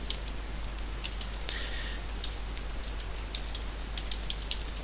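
Someone types on a computer keyboard while installing Ubuntu on a Raspberry Pi, producing faint, scattered clicks in short bursts over a steady low hum.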